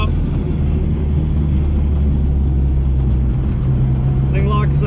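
A car idles and drives on a short test run around the block, its engine a steady low drone with road rumble throughout, and a brief higher squeal near the end.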